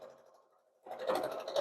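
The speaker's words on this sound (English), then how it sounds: "I'm only going to sew a couple here because you know how to sew a straight line and just go all the way through" A sewing machine stitches a jelly roll mug rug: a faint steady hum, then a short, quick run of stitching that grows louder.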